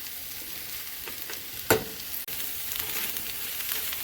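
Tofu scramble frying over medium-high heat in a pan for a quick vegan dish, a steady broadband sizzle with a few soft stirring scrapes and one brief louder knock midway.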